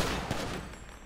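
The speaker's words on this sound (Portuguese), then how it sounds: "agora vocês vão ouvir tiro" A rapid burst of gunfire from a GTA 5 roleplay session, loud and close, packed into about a second.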